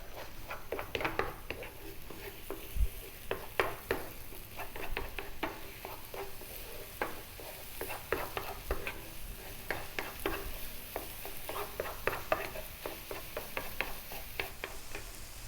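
Chili powder and rice frying in a pan for shrimp fried rice, a low steady sizzle broken by repeated scraping and clacking stirs close up, with no talking.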